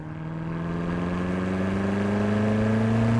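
A 2018 BMW M5 F90 with an 8-speed automatic and 600 horsepower accelerates on a track, its engine note climbing steadily and growing louder in one smooth, continuous pull.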